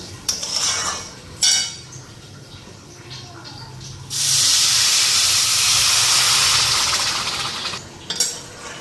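Water poured into a hot pan of frying mung dal and dalia sets off a loud, steady hiss of steam and sizzle that lasts several seconds, following some scraping and stirring of the pan.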